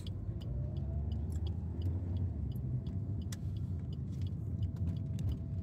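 A car driving on a dark asphalt road in Kuwait, a steady low rumble of engine and tyre noise from inside the vehicle, constant and fairly loud throughout with faint light clinks on top.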